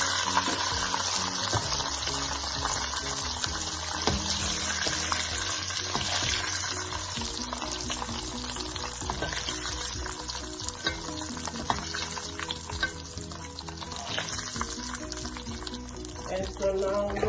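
Beef frying in hot oil for Ghana beef stew, a dense continuous sizzle and bubbling with stirring and clatter, close and steady throughout, with music or faint voice underneath.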